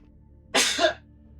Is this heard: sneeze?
yes